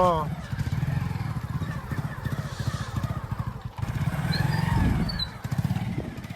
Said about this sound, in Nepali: बाइक राइडिङ गरिरहेछ